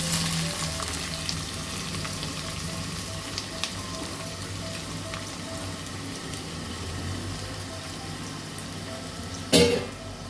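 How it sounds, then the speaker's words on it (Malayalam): Onions sizzle in coconut oil in a pan on the stove, a continuous close frying hiss with occasional small pops and one sharp clatter near the end. "വെളിച്ചെണ്ണയിലേക്ക് നമ്മൾ സവോളയാണ് ആദ്യം ഇട്ട് കൊടുക്കുന്നത്"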